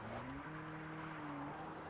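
A hatchback car driving in a video game, a steady low engine drone with a slight pitch shift partway through, faint and continuous, with no talking.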